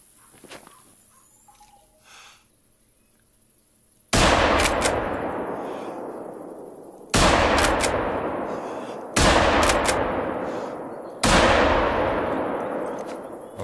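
Four heavy rifle shots boom in theHunter: Call of the Wild, each a sharp loud blast with a long rolling decay, spaced a few seconds apart after a quiet stretch.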